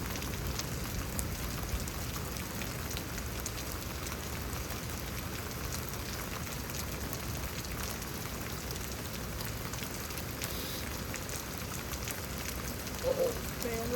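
Heavy, overwhelming rain during a Houston, Texas thunderstorm hisses steadily and densely, a constant wash of drops on surfaces that stays even and fairly quiet throughout.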